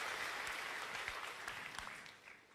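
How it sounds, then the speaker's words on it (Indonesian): Church congregation applauding during a worship service, a broad wash of clapping at moderate distance, steady and then tapering slightly toward the end. "Yang mau kasih tepuk tangan dulu dong buat Tuhan kita Yesus Kristus."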